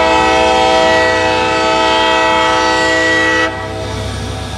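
A CSX freight train horn blares loud and sustained, a rich chord that holds steadily before cutting off, leaving the rumble of the passing train.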